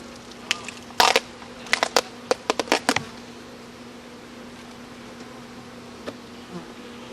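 Honey bees swarm around a beehive top box, with steady insect hum underneath and several sharp, loud close buzzes or knocks bunched in the first three seconds, then quieter hum.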